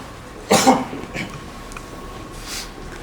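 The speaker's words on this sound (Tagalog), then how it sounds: "Hindi ako gusto umubo eh." A single short, sharp cough close to the microphone during a rap battle, followed by quieter throat sounds and faint background noise.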